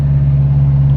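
A Ferrari 308 engine on the move, a loud steady low hum with no change in revs, heard without any talking.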